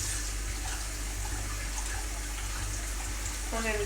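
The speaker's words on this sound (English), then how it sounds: "I'm going to do half a cup of water" Water runs steadily into a saucepan for cooking pasta, a continuous pouring hiss over a low kitchen hum, with a voice speaking near the end.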